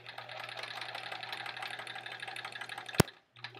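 A sewing machine runs steadily while stitching a pieced quilt block, a continuous fast mechanical whirr that stops abruptly after a sharp click near the end.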